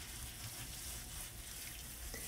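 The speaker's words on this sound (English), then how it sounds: "wash them thoroughly in a sieve until the water runs clear" Water runs steadily as millet and red lentils are rinsed in a sieve, giving a constant, even splashing hiss with no breaks.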